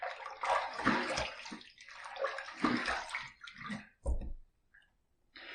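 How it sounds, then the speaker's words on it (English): A safety razor being rinsed under running water, a loud close gush and splash of flowing water with gurgling surges that stops abruptly near the end, leaving brief quiet before the water resumes. "Let's rinse."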